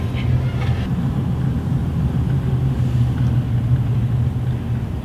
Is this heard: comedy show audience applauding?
no